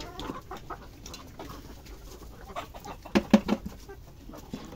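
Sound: laying hens clucking

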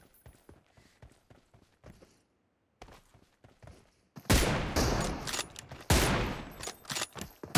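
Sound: gunfire in the video game PUBG Mobile

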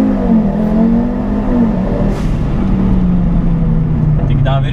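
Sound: Nissan 350Z drift car accelerating hard

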